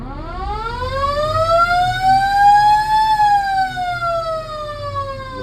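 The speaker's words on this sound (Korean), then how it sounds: "누르시면 모터 사이렌이 작동되고요" A loud motor siren winds up steadily in pitch, holds briefly, then begins to wind down, close and continuous with no voices.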